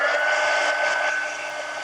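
A heat tool blows steadily on shells stuck to a mixed media collage card, giving a close, even, airy whoosh with a faint tonal whine that holds for the whole stretch and eases off slightly toward the end.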